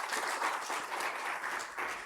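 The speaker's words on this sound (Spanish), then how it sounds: "Un aplauso para ellas" A church congregation applauds singers at a Sunday service, a dense, steady wash of many hands clapping together with no one speaking over it.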